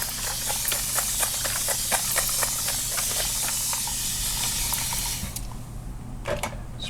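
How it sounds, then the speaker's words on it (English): Rapid pumps of a spray bottle misting an acrylic paint palette hiss out in quick bursts, a steady rhythmic misting up close, then a couple of final sprays after a brief pause. "I gotta spray this palette"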